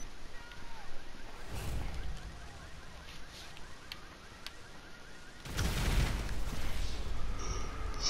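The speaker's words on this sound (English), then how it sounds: "I heard an explosion." An explosion inside a Grand Theft Auto game session lands as a broad, loud burst partway through, rumbling over steady background game noise with no talk.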